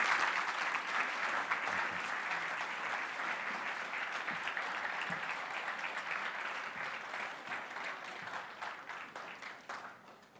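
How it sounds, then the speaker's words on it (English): Long, steady applause from a large conference audience at a live event in Split, Croatia, dense and even throughout with no clear talk, easing slightly toward the end. "Indeed, a long applause would be very, very applicable, in my opinion."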